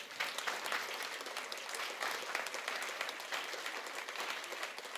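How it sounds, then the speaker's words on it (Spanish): A church congregation claps together during a Spanish-language sermon, a continuous wash of applause heard from some distance at low volume, steady throughout with slight swells. "Dele un aplauso al Señor"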